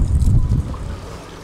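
A fishing boat motors out across open water on the Volkerak in Holland, a rumbling low engine and wind buffeting near the microphone, strongest at first and easing off over a second and a half.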